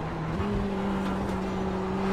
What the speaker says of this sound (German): jetzt der BMW hier an uns vorbei